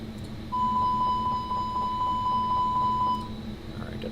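APU fire alarm test in a FlyByWire A320 flight simulator: a rapid train of high electronic beeps starts abruptly, pulses evenly for nearly three seconds over a low cockpit hum, then cuts off.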